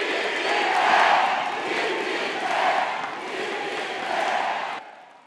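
Large political rally crowd cheering and shouting in swelling waves, a dense roar that rises and falls over about five seconds before cutting off abruptly.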